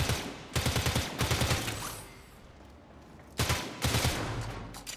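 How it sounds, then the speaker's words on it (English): Bursts of automatic rifle fire in the Warframe video game, two loud rapid volleys separated by a quieter gap, each a fast stuttering string of shots. "So it's a semi-auto rifle or an auto rifle."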